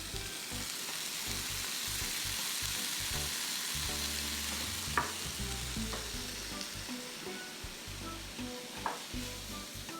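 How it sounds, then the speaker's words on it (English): Chicken pieces searing in a hot pan for jerk chicken, a steady close sizzle and crackle of frying with occasional sharper pops and light stirring, no voices. "We're just looking to get a little bit of a sear on these."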